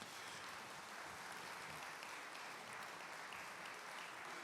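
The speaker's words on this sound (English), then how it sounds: "give them a collective round of applause if you can" A collective round of applause from a forum audience, faint and distant, a steady wash of many hands clapping without a break.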